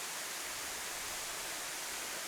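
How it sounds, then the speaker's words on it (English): A waterfall on the Olympic Peninsula in the Pacific Northwest, a steady broad roar of falling water, constant and even with no other sounds. "got a waterfall"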